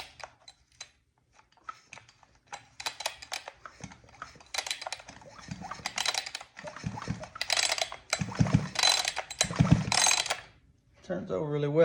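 A Husqvarna 562XP chainsaw engine is pulled over by hand without starting, bursts of rattling mechanical clatter repeating in uneven pulls with pauses between them, close and moderately loud.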